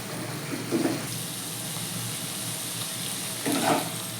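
Banana stem and lentil dumplings fry in a pan as a continuous close sizzle, broken by two brief louder bursts of stirring and scraping.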